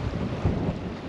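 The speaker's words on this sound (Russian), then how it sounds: "Сейчас приличный ветер. Но ветер теплый очень." Wind blowing over a river on a float trip along the Ambler River, a warm southerly wind: a brief, dense low rumbling buffet of gusts against the microphone with no talking.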